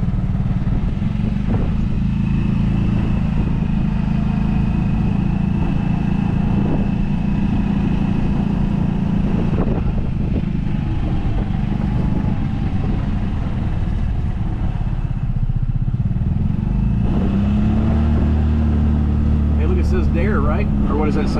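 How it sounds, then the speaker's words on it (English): Steady drone of a golf cart motor during a ride over to Brownwood Square in The Villages, Florida, a continuous low rumble throughout with some rattling, while people talk over it. "it's time to go take a golf cart ride over to Brownwood and check things out"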